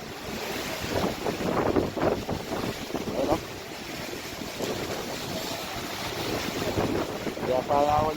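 Strong gusty wind from Typhoon Paolo buffets the microphone in loud rushing bursts on a rocky shore, with a low roar like surf in the background and faint voices now and then.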